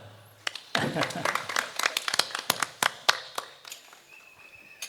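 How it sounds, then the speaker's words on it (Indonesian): Audience at an Islamic gathering clapping for a regent: scattered claps start, then swell into a brisk, uneven patter of distinct hand claps that tapers off over several seconds. "Tepuk tangan buat Bupati."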